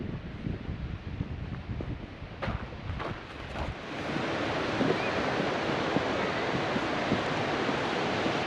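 Waves and wind at Montrose Beach in Scotland, a steady wash of surf with gusty wind buffeting the microphone, growing louder and fuller partway through.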